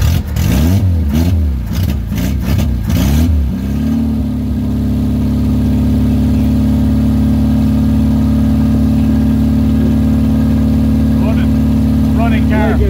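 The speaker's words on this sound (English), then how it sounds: "Running car. Like a sewing machine." A 1965 Opel Kadett B Coupe, off the road for 37 years, settles into a steady, even idle after some early voices, running smoothly and continuously close by.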